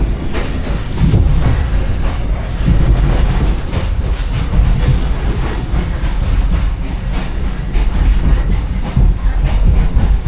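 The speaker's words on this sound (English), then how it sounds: "Finishing up a 16-hour sleeper train ride." A sleeper train arriving in Hanoi, Vietnam rumbles steadily along the rails, loud and close, with a continuous low roar and faint rhythmic clatter throughout.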